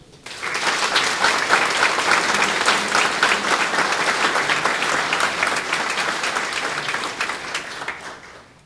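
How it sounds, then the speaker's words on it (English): Sustained applause from a large crowd at a city veterans program, loud and steady clapping that builds quickly and fades out near the end. "would you join me in applauding our veterans"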